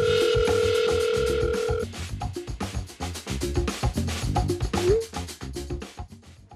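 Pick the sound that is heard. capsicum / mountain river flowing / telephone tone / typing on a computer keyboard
telephone tone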